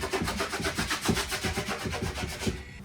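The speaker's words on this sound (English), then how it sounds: "just brushing that little bit of wax out" Stiff brush repeatedly scrubbing hard cold wax out of a snowboard base, a steady rhythmic back-and-forth scraping of roughly eight strokes per second, close and loud, ending abruptly.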